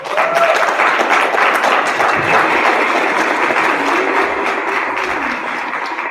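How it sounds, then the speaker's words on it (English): An audience applauds at a men's health and Juneteenth event panel, with loud, sustained clapping from a roomful of people that stays full and even for several seconds. "let's give a round of applause"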